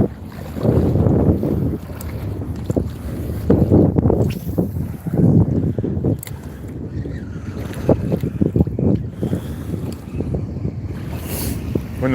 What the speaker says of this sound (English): When the wind is getting up like this